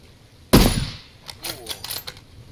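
A single sharp Kar98 rifle shot in a video game, fired through leaves, cracks out loud and close and then rings off. A voice follows with short bursts of speech.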